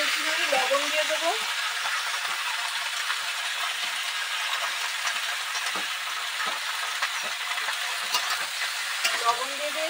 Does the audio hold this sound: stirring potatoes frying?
yes